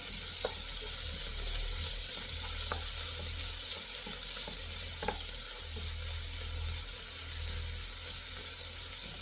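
Papaya pieces cook in a pan for a Kerala-style upperi, giving a soft, steady sizzle with a low background hum and a few faint clicks.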